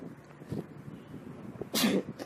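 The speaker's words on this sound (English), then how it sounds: "Excuse me guys, what a cough." One sharp cough bursts out near the end, close and loud, after a short stretch of quiet room noise.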